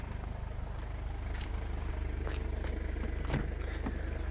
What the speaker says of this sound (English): Oh, there's a car outside.